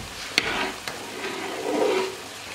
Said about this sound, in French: Je vais venir remuer mon riz quand même.